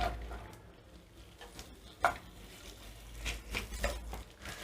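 Sliced okra being sautéed in hot oil in a pan, with a soft, quiet sizzle and occasional scraping and stirring clinks of a spatula against the pan.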